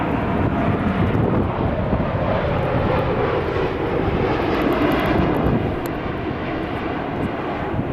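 A Boeing 787 Dreamliner jet airliner arriving from Osaka, Japan, passes overhead with a steady, loud engine roar and rush of air, constant for the whole stretch with some wind buffeting the microphone.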